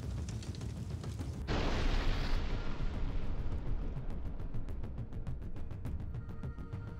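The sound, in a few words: explosion of an ammunition depot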